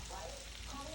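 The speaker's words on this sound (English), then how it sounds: "I'm frying it up." Hot Italian sausage frying in a pan, a steady close sizzle and crackle that lasts about one second with no break.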